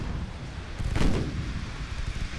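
11-inch naval guns firing in a naval battle video game, a single deep booming report swelling and rolling away over a low rumbling battle ambience.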